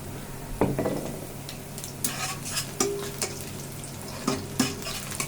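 Onion and whole spices (bay leaves, cloves, cinnamon, cardamom) crackle in hot oil in a frying pan for morog polao, a steady close sizzle punctuated by several sharp scrapes and taps of a spoon against the pan.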